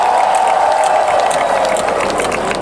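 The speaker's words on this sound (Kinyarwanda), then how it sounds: "nimwongere mukoma amashyi n'impundu" A church congregation claps and ululates together, dense continuous applause with a high, wavering ululating tone running through it, loud and sustained.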